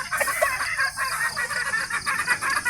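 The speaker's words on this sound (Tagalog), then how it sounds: "Kain tayo sa ating mga native chicken" Native chickens cluck steadily and fairly loudly on a farm, with overlapping calls from several birds filling the whole stretch and no pauses.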